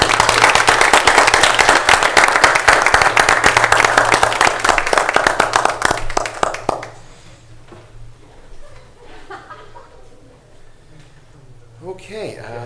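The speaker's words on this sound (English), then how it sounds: "Again, a round of applause, please." A round of applause at a Lake County, Ohio county commissioners meeting, with dense, steady clapping for about seven seconds before it stops abruptly, leaving faint room noise and brief talk.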